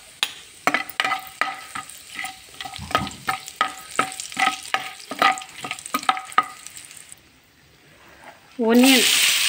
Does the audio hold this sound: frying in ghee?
yes